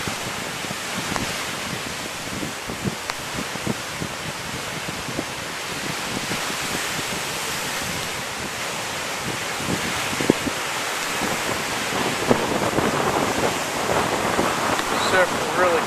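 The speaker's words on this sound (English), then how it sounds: "Surf is really picking up now." Ocean surf and gusting wind on Maho Beach, St. Martin, during Tropical Storm Maria: a continuous roar of breaking waves with wind buffeting the microphone, loud and unbroken, with occasional stronger gusts and surges.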